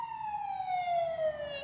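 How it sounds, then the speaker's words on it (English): An ambulance siren passing at night, a single long wailing tone gliding steadily downward, heard from a moderate distance with no one talking. "Ambulance."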